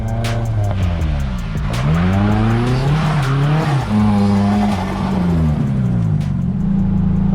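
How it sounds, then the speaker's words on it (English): Nissan S14 240 with a staggered rear setup, lightweight flywheel and new clutch, skidding hard: loud sustained tire squeals that rise and fall with engine revs over about seven seconds, close by. "first skids in the 240"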